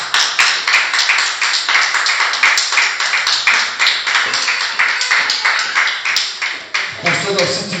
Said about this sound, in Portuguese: Você pode aplaudir mais uma vez, Senhor Jesus.